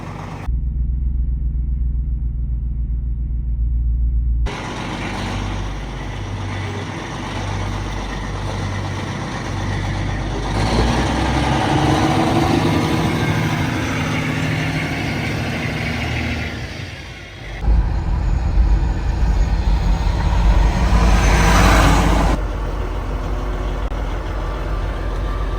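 A smoky pickup truck starts cold in the snow: a few seconds of quiet, then the engine catches and settles into a loud, steady, rumbling idle, rising briefly in a heavier surge near the end.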